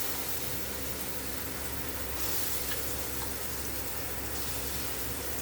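A peanut and coconut spice paste with salt, chili and turmeric for guthivankaya curry sizzles in a frying pan, giving a steady, dense hiss without pauses.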